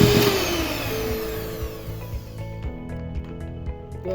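Electric hand beater whisking oil-free chocolate sponge cake batter in a bowl, a steady loud motor whir that holds throughout and drops in pitch partway through, with faint clinks of the beaters against the bowl near the end.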